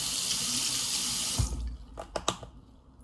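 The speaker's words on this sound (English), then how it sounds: "Let me wet the brush." A kitchen or bathroom tap runs steadily for about a second and a half as a makeup brush is wetted, then shuts off, leaving a few soft drips and small handling clicks close by.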